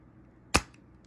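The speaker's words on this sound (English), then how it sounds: "All I'm using right now is a soldering gun and a solder sucker to get this solder up" A solder sucker fires once while desoldering a GameCube lid switch, a single sharp, close snap that stands out against near silence.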